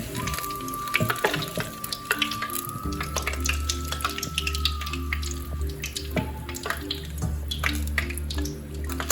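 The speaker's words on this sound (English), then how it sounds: "when you feel it stop bubbling, right?" Plantain chips frying in hot oil, a steady dense sizzle and bubbling that runs through the whole stretch, with a few faint clinks and a thin tone over it.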